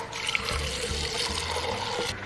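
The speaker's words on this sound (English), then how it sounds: "I put some water in there." Water is poured into a cup, a steady trickling splash lasting a couple of seconds, close and alone.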